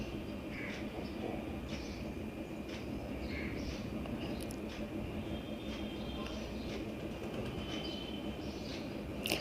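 Raw keema patties frying in hot oil in a kadhai over medium heat, giving a steady, even sizzling hiss throughout with faint background chirps.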